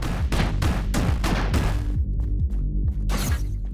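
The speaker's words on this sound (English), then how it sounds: "Heavy machine gun, and it's a shell type weapon" Heavy machine gun in Orbital Bullet firing rapid bursts of sharp, punchy shots, loud and close, with a brief pause partway before more spaced rounds crack out alone.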